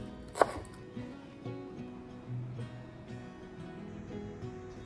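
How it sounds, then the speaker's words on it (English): A knife chops about three green onion stalks on a board, with one sharp close knock followed by faint, soft cutting sounds in a quiet kitchen. "To add a fresh, mild onion flavor, chop about 3 stalks of green onion."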